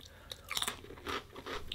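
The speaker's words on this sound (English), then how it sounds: "The crunch is not there. That is a softer biscuit." Chewing on a softer Arnott's Shapes biscuit, quiet close-up bites and a few muffled crunches in short bursts.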